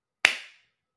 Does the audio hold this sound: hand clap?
yes